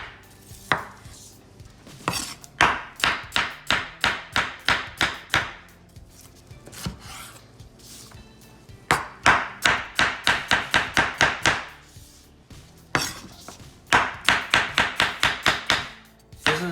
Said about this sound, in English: So I'm just gonna cut them in thin strips.